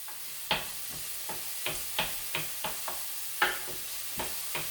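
Onions and jalapeno peppers cook down in a pan with a soft, steady sizzle, while a spoon stirs and scrapes at irregular intervals, producing a dozen close, distinct taps.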